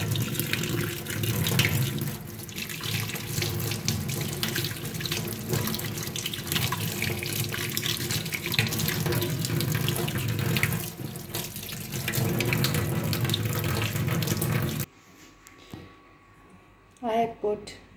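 A kitchen tap runs in a steady, close rush of water for about fifteen seconds while money plant stems are rinsed under it. The flow then shuts off, leaving a few soft drips and splashes.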